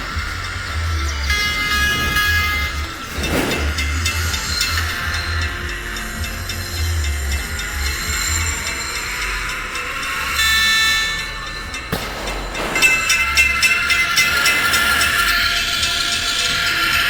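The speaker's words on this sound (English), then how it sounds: "The new sound of the train working out at Princeton." A video game train runs on rails with a steady low rumble and rolling mechanical clatter. Brighter metallic squeals and rattles rise at intervals, and no voices are heard.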